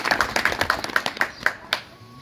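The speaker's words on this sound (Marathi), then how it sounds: "त्या एकीसाठी, त्या एकोप्यासाठी जोरदार टाळ्या स्वतः करतात" Audience applause at a village lecture celebrating a social reform anniversary. Scattered claps come in a short uneven burst from a few hands, some nearer and sharper than others.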